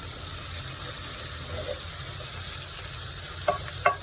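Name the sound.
stirring cabbage cooking in a pan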